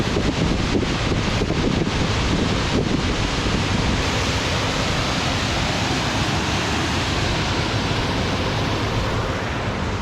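A waterfall rushes beside campsites near Shadow Lake on the John Muir Trail, a steady, loud roar of falling water mixed with wind buffeting the microphone, no voices.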